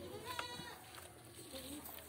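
A goat bleats once, fairly close and clear, while being fed ground cherry leaves, with soft rustling and quiet background noise around it.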